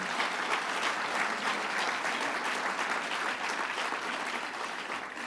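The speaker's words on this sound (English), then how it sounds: "Yeah, Bob Duffy, let's give him a round of applause." An audience gives a sustained round of applause at a political event in Rochester with the New York governor, steady, dense clapping from a crowd lasting throughout, fairly loud and without speech over it.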